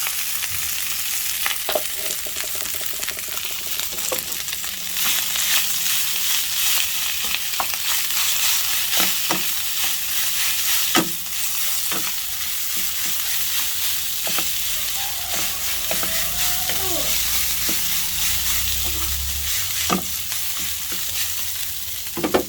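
Sinangag garlic fried rice hisses steadily in a pan for the whole stretch, while intermittent scraping and clanking stir strokes break through the sizzle.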